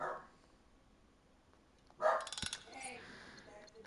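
A dog in the virtual reality game Mars Alive gives a short burst of barks and yips partway through, set against quiet game ambience and a person speaking.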